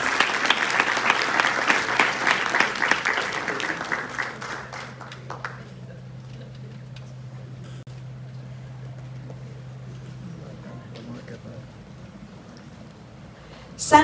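At a nursing capping ceremony in Arecibo, an audience bursts into strong applause that fades out after about five seconds, leaving a low steady hum and quiet room tone, with a brief bump of noise at the very end.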